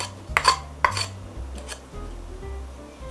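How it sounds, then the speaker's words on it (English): Granulated sugar tipped all at once into a mixing bowl for Italian amaretti cookies, a few quick clinks and a soft pouring rustle, close and fairly quiet. "we're going to put all the granulated sugar in. And that goes all at once."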